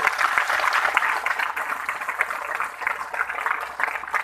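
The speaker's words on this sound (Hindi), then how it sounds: "मैं चाहता हूं उनके सम्मान में जोरदार ताली आप लोगों की तरफ से" Loud crowd applause at a large rally for Babu Jagdev Prasad, hailed as a martyr, at the Latiya Mahotsav: dense, steady clapping from many hands, continuous for the whole stretch with no voice over it.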